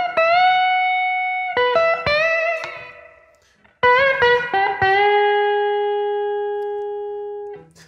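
Electric guitar plays a major blues lick, clean sliding and bending single notes in two phrases, the last note ringing out long, close and loud with no talking.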